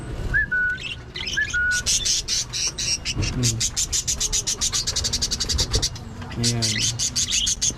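Pet birds in an aviary chirp and whistle in rapid repeated tweets, close and lively, with a voice briefly speaking and imitating their tweeting.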